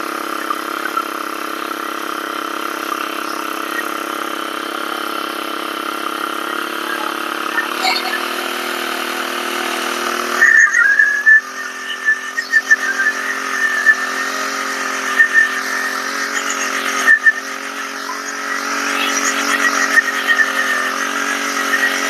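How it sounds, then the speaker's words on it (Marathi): An engine-powered weeding cultivator for maize, soybean and sugarcane rows runs steadily and close by, its small motor droning throughout with a few brief louder bursts in the second half; voices are faintly present. "स्विच ऑन केलं थोडासा याला रेस द्यायचा आहे आणि घ्या एक ते दोन दोरीमध्ये चालू तुम्हाला चालू दाखवतो याला"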